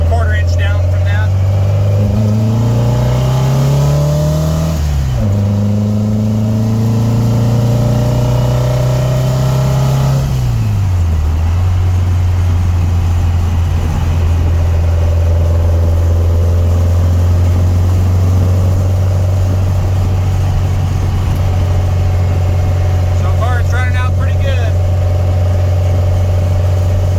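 A VW Volksrod engine on Weber IDF carburetors runs loud and steady, with its deep low hum rising and dipping through two brief throttle blips near the start, then settling into an even run.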